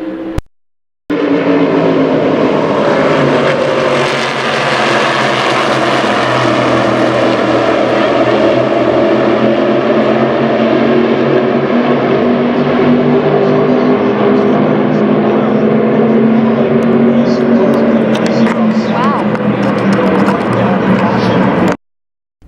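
A pack of modified race cars thunders off at the green flag start of an All-Star Shootout, a loud sustained engine roar that holds for about twenty seconds and then fades.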